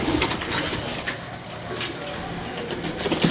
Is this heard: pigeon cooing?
yes